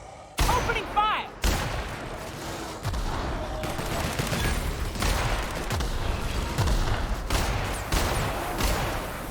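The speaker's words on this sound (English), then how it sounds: "Opening fire!" Sustained gunfire in the video game The Outer Worlds, dense overlapping shots and bursts filling nearly the whole stretch at close, loud level, with a brief gap near the start.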